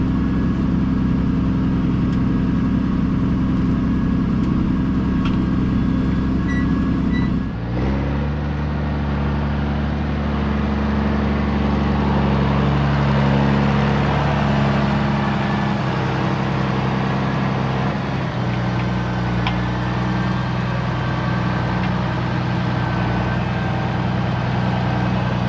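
A large tractor engine runs steadily while pulling a wide disc harrow across a field, a loud continuous low drone with a brief dip in load partway through.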